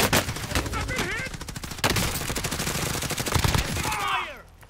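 Rapid automatic gunfire in the Warzone Zombie Royale video game, dense loud bursts of shots with game effects layered over them, fading out near the end.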